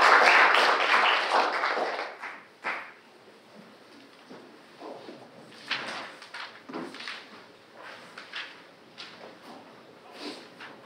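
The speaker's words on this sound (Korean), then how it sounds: "오승종 박사님을 큰 박수로 모시겠습니다" Audience applause at a nuclear-regulation workshop welcomes a speaker, a burst of clapping that fades after a couple of seconds into scattered taps and room shuffling.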